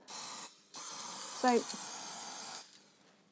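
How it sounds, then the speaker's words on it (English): A can of layering spray for static grass modelling releases a loud, steady hiss in two bursts, a brief one and then a longer one of about two seconds, while a voice speaks briefly. "nice coat of layering spray"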